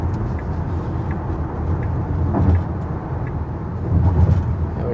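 Steady road and tyre noise inside a 2022 rear-wheel-drive Tesla Model Y merging onto a highway in Australia, a constant low rumble that swells slightly in places, with no talking.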